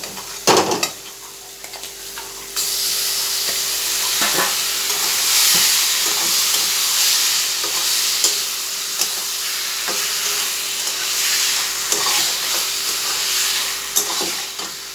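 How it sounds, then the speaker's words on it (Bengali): Fried spices sizzle in oil before steamed mushrooms are tipped in, bringing a clattering drop and then a louder, fuller hiss with intermittent scraping from stirring. "মশলার থেকে তেল ছাড়ছে মানে মশলা ভাজা হয়ে গেছে এবারে মাশরুমগুলো দিয়ে দেব"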